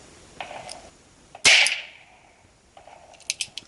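A single sharp gunshot from a Ruger Wrangler revolver firing Winchester 36 grain ammunition, close and loud, its crack decaying quickly outdoors, with faint clicks and handling noises before and after.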